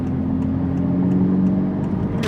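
Chevrolet Corvette C8 Z06 with the high-revving LT6 engine, heard close as a steady, loud engine drone that holds a rising tone before easing off near the end, with no talking.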